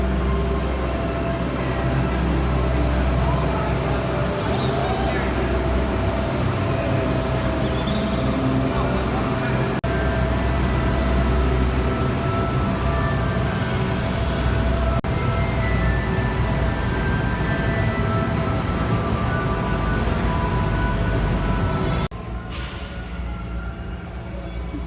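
Continuous low rumble and rattle inside a moving theme park train at Universal Studios' Harry Potter area, steady throughout, with faint murmur of voices in the background, dropping off near the end.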